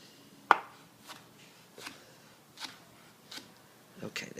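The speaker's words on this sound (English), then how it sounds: "we'll do the rest with the rest of the tomatoes, cutting them into strips" A knife cuts tomatoes into strips on a cutting board: a crisp first chop followed by five softer, evenly spaced slicing taps, close and quiet.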